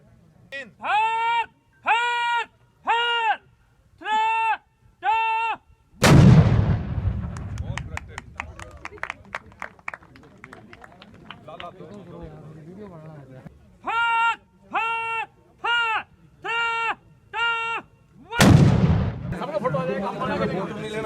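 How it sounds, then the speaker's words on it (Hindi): Plastic explosive charges set off by a single electronic detonator at the Sanchu border post give two heavy booming blasts with long rumbling decay, separated by stretches of loud, steady electronic beeping. "एक ही डेटोनेटर से तीनों ब्लास्ट हो जाएंगे।"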